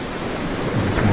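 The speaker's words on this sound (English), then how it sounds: "For the crashing of waves will be this one." Ocean waves crash in a deep, resonant wash recorded from some distance, with natural reverb and a steady roar that swells slightly toward the end.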